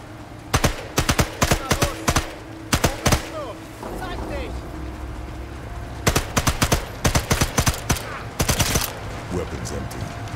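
SMG fire in the Sniper Elite 5 video game comes in loud, rapid bursts of sharp shots, several volleys separated by brief pauses, with a voice speaking between them.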